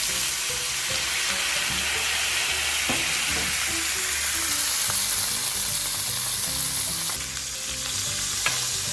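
Steak and butter sizzle loudly in a pan after a splash of bourbon, a dense steady hiss with soft stirring scrapes and occasional ticks, heard up close throughout with no voices.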